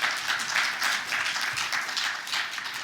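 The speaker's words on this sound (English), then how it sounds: "which I think deserves a little round of applause" Audience applause at an in-person evening lecture, a steady wash of clapping from a hall full of listeners that holds at an even level from start to finish with no voices over it.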